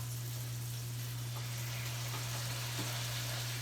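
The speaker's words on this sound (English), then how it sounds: "Can you hear the sizzling?" Roasted garlic sauce in olive oil sizzles steadily in a hot pan, a continuous close frying hiss over a low electrical hum, with no talking.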